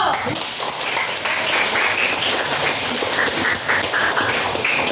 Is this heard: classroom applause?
yes